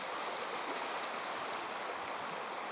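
Steady rushing of stream water during light spinning rod fishing, a continuous broadband wash heard close and alone with no talk.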